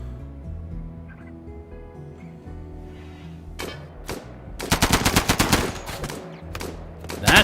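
Raiders' gunfire in RimWorld: a dense burst of rapid shots crackles in a little past midway and continues in clusters over a steady low game score and ambient hum.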